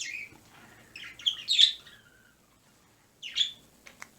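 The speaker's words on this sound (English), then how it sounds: "Chirp, chirp, chirp." Outdoor birds chirp in short bright bursts, a few tweets clustered early and another burst after a brief quiet gap, fairly faint and with no voices.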